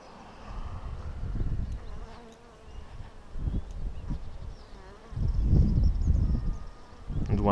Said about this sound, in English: And one bee is annoyed with me,